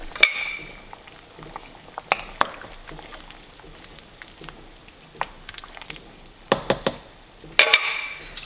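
Meatball soup simmering in a pot, soft bubbling with scattered pops and a few sharper knocks and splutters, close and fairly quiet, no talking.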